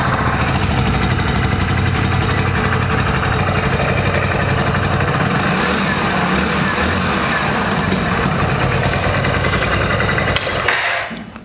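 A Hero Splendor Plus BS6 motorcycle engine runs at a steady close idle, a loud continuous mechanical chug with rattling texture that cuts off abruptly near the end.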